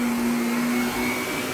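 A carpet cleaning extractor vacuum running continuously, a loud close steady whine with a strong motor hum, no voices.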